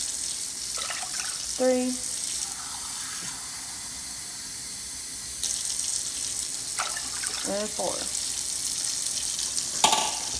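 Tap water runs into measuring cups of water for cooking two cups of rice, a steady faint splash beneath a voice counting aloud and short clinks of cups.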